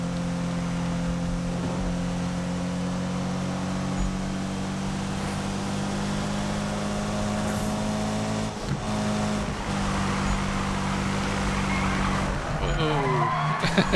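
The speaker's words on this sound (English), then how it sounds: "I always like the drifting abilities of these turns." Tires squeal in a long, sustained skid as a car drifts through turns in the racing video game Need for Speed (2015), with steady engine drone underneath and a sharp gear change near the end.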